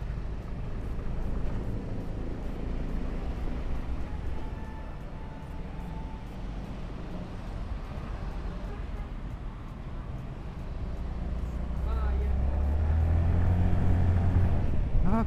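Yamaha Fazzio 125 hybrid scooter riding through stopped, jammed traffic, a steady low engine and road drone throughout that swells louder toward the end, with a voice now and then over it.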